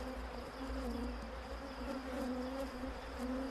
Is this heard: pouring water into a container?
no